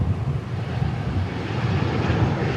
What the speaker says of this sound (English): This looks like an A320 that's arriving.